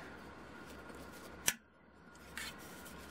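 Scissors close on a koozie, cutting off its bottom in one crisp, close snip, with a fainter rustle a second later against a quiet room.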